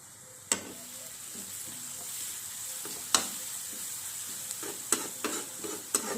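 Onions sauté in a pan with a soft, even sizzle, punctuated by several distinct scrapes and knocks of a spoon as they are stirred at irregular intervals.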